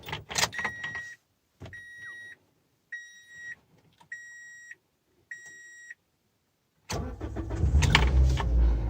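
A Toyota car in the cold, warmed slightly beforehand, sounds several regular dashboard chimes separated by pauses before the engine cranks and catches, settling into a loud, steady idle up close.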